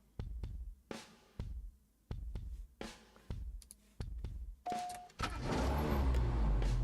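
Video game car engine sounds from CSR2 Racing: an engine revs in a series of short, punchy bursts with brief pauses between, then settles into a continuous, louder roar.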